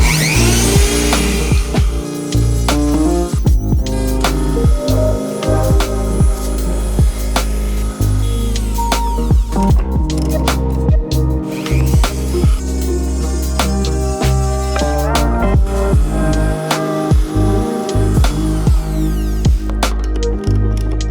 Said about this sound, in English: Gonna go Dremel tool on this one with a little bloop of 3-in-1.